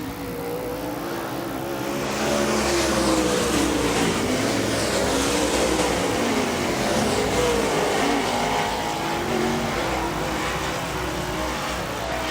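Late model race cars roar around the oval at Wagner Speedway in a Tri-State Late Model event, a loud, continuous engine drone with shifting pitch as cars battle side by side, steady throughout.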